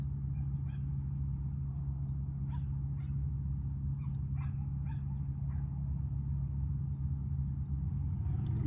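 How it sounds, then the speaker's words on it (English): A dog barks a few times in the distance, faint and intermittent, over a constant low rumble of traffic and machinery. "If you can hear the dog barking"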